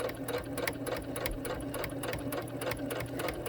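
A sewing machine set on slow stitches a cloth face mask, its needle tapping out an even rhythm of stitches close by.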